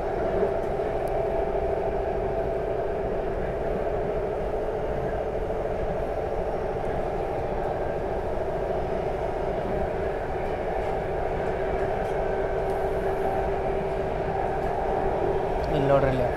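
Namo Bharat RRTS rapid train on the Delhi to Meerut line running at high speed, a steady loud interior rumble and hum with no break, heard from inside the carriage.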